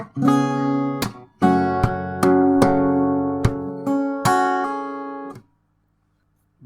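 Fingerstyle acoustic guitar plays bars 68 and 69 of an arrangement of a song from Naruto Shippuden, a run of clear plucked chords and notes that ends in a brief silence.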